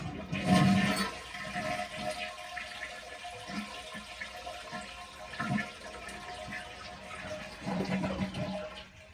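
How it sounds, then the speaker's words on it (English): A toilet tank empties in a flush, and the water rushes and gurgles for several seconds with swells and dips in strength. It is moderately close, and nobody talks over it. "Okay, so you flushed it once."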